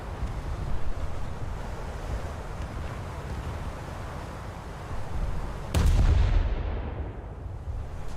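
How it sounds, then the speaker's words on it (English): A warship fires a naval artillery salvo in a warship game: a sharp heavy boom cuts through steady wind and sea noise, then fades over the next couple of seconds. "Just firing a salvo to see if it'll hit."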